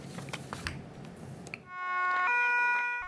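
New ambulance siren in Karangasso Sambla starts loud and close after a stretch of outdoor crowd noise, holding a steady multi-tone wail to the end.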